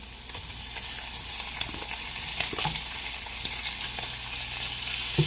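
Shrimp frying in undrained bacon grease in a pan, a steady broad sizzle filling the whole stretch with faint scrapes and low clatter underneath.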